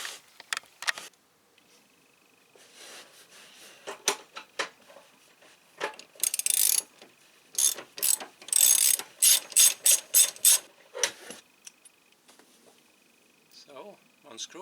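A hand ratchet backs out the seat screws inside a 2005 Hyundai Accent, clicking in quick, close bursts of sharp pawl ticks between quieter handling noises and pauses.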